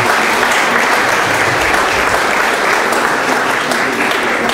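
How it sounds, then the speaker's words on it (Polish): Audience applause at a school sports awards ceremony, dense continuous clapping filling the room, loud and sustained throughout with no voices over it. "Brawa."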